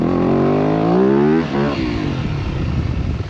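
A nearby motorcycle engine revs up loudly, then drops to a rough, rattling idle.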